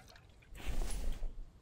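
Water pours onto garden beds in the survival video game The Infected, a soft, steady splashing trickle that swells briefly in the middle and then fades, with no talking over it.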